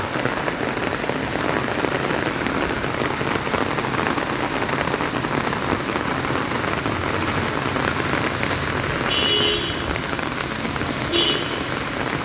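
Steady rain pours down on trees and surfaces, a dense, even hiss that holds at the same level from start to finish, with no voices heard.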